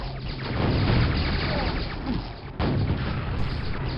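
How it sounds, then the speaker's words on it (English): Rocket launcher blasts in the PC game Quake run one after another. The explosions are loud and booming, with a sharp new blast about two and a half seconds in. "Oh, hey, I have a rocket launcher now."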